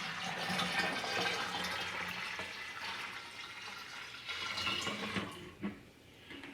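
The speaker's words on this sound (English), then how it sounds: "So let's pour the rest of our water in." Water pours from a pitcher into a 5 gallon corny beer keg holding PBW cleaner, a continuous hollow splashing rush that fades, briefly falters, then resumes, close and with no talk.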